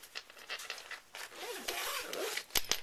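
Zipper on a UTG tactical camera bag pulled open along a side pocket in a few quick rasping runs, close and clear, with a couple of sharp snaps near the end and no talking.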